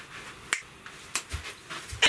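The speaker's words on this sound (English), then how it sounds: "I'm going to snap my fingers" Several sharp, crisp finger snaps crack out close by at uneven intervals, each a short bright click against a quiet background with light panting-like breaths between.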